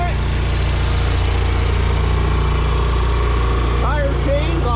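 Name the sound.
Allis Chalmers 720 tractor engine running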